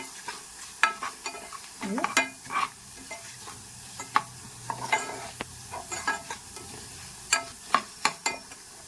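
Cumin and coriander seeds dry roast in a pan, with a spoon scraping and stirring them in a series of close, uneven strokes and a light rattling crackle between them.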